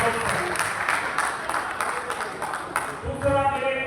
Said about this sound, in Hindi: तो एक बार जोरदार ताली बजाकर बताइए कि हम सहमत हैं।